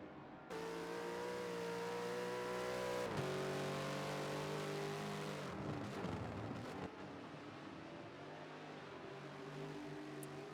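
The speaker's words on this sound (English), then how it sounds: "I do like the sound of that Bentley, I must say. Sound of that exhaust system." A Bentley GT race car's exhaust revs hard nearby, its pitch dropping and climbing again before easing into a rough, sustained roar.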